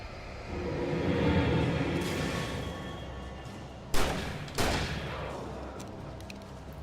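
Shotgun blasts in the Alan Wake video game: two sharp, loud reports about half a second apart with a brief echoing tail, following a stretch of low ambient rumble and a rising whoosh.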